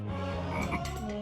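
A frog croaks in a rapid, rattling series of throaty pulses, close and loud, filling the short moment on its own with no voices.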